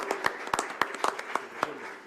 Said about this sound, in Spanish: Un aplauso muy fuerte al padre Cervera